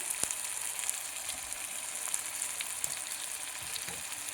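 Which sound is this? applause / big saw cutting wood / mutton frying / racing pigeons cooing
mutton frying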